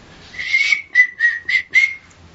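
A person whistles a short tune of five quick notes, close and clear, with brief gaps between them.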